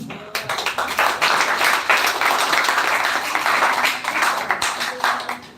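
An audience applauds during a speech at a grand finale event, a continuous, fairly loud patter of many hands clapping with no voice over it.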